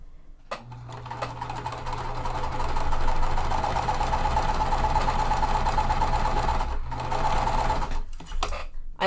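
A sewing machine runs steadily while stitching quilt block seams, a close, continuous mechanical whir holding for about eight seconds before stopping briefly and starting again.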